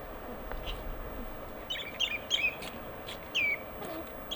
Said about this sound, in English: Some seagulls.